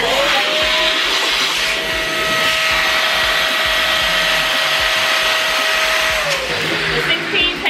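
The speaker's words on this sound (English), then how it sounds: "I do two at a time, and I use this pump" An electric balloon pump inflates two balloons at once with a loud, steady motor whine and airy rush, its pitch rising slightly after starting and dropping as it shuts off near the end.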